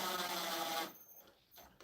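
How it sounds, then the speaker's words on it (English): A power drill whirs steadily while boring into a 3/4 inch piece of wood, then cuts off abruptly to near quiet, close and loud with no talk. "We'll just start drilling."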